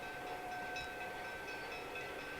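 A train on the Bangor and Aroostook Railroad running through remote Maine wilderness along the Fish River, a faint, steady rolling rumble with a thin sustained whine.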